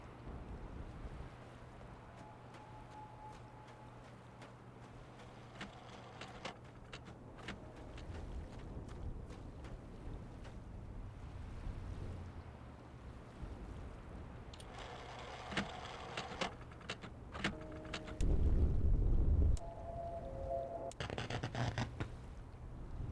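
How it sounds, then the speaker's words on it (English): Steady wind ambience in the Myst adventure game, a continuous low airy rush with shifting gusts, joined midway by brief tonal and mechanical game sounds and a louder low thump near the end. "This is just wind, right?"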